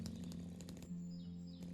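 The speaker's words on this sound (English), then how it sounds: "Chainsaw?" A chainsaw in a video game about chopping trees, its engine droning steadily with a strong buzzing tone, punctuated by rapid revving pulses at the start, loud and close throughout.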